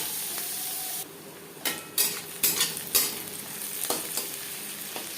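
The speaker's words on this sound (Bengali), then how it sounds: "চার 5 মিনিট পেঁয়াজ ভেজে নেওয়ার পর" Chopped medium onions fry in hot refined oil in a pan, a steady sizzle broken by several loud scraping stirs with a spoon, alone without voices.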